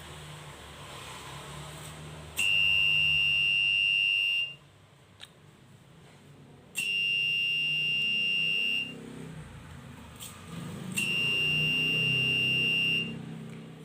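A simple Arduino Uno fire alarm's buzzer, triggered by a flame sensor, sounds three times in long, loud, piercing electronic tones with quiet gaps between them.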